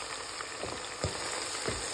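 Onions and garam masala frying in a pan, a soft, quiet crackling sizzle with a few faint scrapes or pops along the way.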